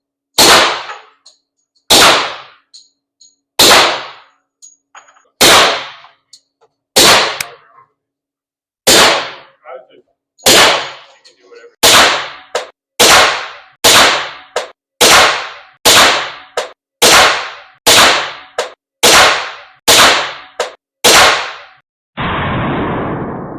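Suppressed .45 pistol shots alternating between a Rugged Obsidian 45 and a Dead Air Mojave 45 suppressor, about eighteen sharp, loud reports evenly spaced a second or so apart, each with a short decaying tail, ending in a brief rustle.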